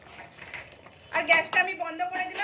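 Potato and pea curry being stirred with ghee in a pan: scraping and clinking of a utensil against the pan, quieter at first, then louder, busier strokes over the last second and a half.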